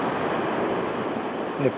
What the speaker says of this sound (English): Big waves are giving me a few problems now, people.